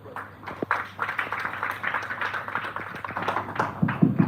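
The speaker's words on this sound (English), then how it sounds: "Let's clap for our Mr. Mubangizi" An audience at a youth manifesto validation meeting claps for a colleague, with scattered, uneven hand claps and light background noise rather than a full, dense ovation.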